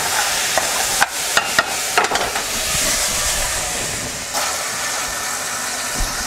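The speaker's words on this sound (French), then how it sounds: "On va rajouter des haricots." A few sharp clattering pours as red beans drop into a pot, over a steady sizzling, hissing background.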